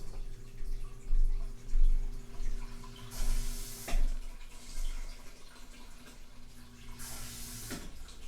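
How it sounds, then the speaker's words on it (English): Warm water pours into peat pellets for starting lettuce seeds indoors, a steady splashing fill with brief bursts of brighter, louder pouring, heard close up alongside a low background hum. "you're going to add warm water to it"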